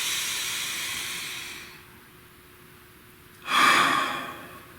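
A deep breath, a long soft airy inhale followed after a pause by a louder, brief breathy exhale, close and alone.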